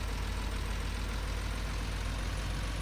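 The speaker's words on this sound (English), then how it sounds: "I'll turn round" A tractor engine running steadily while the tractor turns round, a constant, close, low rumbling drone with no breaks and no voices.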